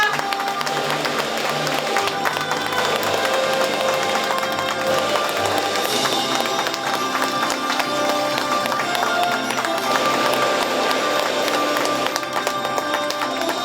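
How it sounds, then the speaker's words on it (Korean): Sustained, dense applause from a crowd at an agricultural research results sharing conference in Gyeongbuk, a loud continuous clatter of many hands filling a large hall for the full stretch. "다시 한번 힘찬 박수 부탁드립니다."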